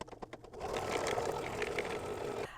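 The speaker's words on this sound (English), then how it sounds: "I'm going to stitch this color stop number 3." An embroidery sewing machine stitches a coin purse in the hoop, starting with a few quick individual stitches and then settling into a fast, steady mechanical whirr at close range with no voices.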